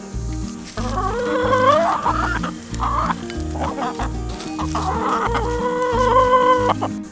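Backyard chickens cluck steadily inside a coop, several birds overlapping in close, loud, continuous rhythmic clucking and calls with no voices.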